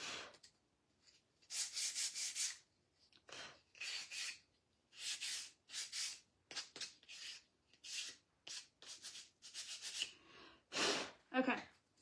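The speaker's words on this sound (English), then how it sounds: "I'm just going to sand it a little." Repeated strokes of sanding across a small wooden Scrabble tile, in short bursts of rough rubbing separated by brief pauses, close and moderately loud with no talking.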